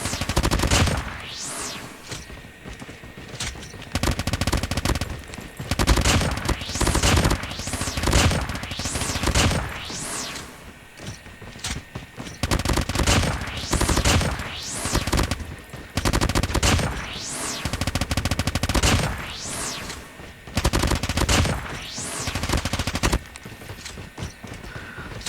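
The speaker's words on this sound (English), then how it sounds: "it's got higher fire rate, so it does shoot these bullets faster than the CDR4" Rapid bursts of automatic fire from the BK57 gun in a ranked video game match, repeated volleys with brief gaps, loud and close throughout.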